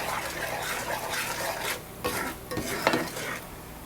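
A spoon stirs a Cajun seafood boil seasoned with Old Bay in a pot. Close, uneven scraping and sloshing swells come in bursts over a soft sizzling bed, with no talk.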